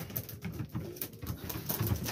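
Racing pigeons coo close by in a loft, soft low throaty calls repeating in a continuous, overlapping rhythm with no talking.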